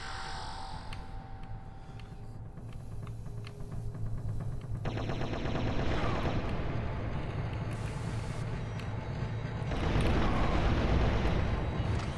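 Thumper grenade launcher fires in the modded Turok video game, producing heavy booming blasts and rumbling explosions layered over continuous game noise, loud and dense with a big surge near the end.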